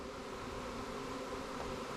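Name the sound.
honey bee swarm buzzing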